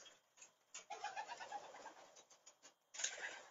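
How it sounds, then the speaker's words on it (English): Pigeons coo and rustle as they settle onto perches in a loft, a soft continuous murmur of cooing with wing flutters, faint and unaccompanied by talk. "Birds taking their perches, owning their spots."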